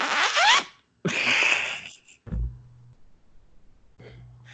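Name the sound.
record scratch sound effect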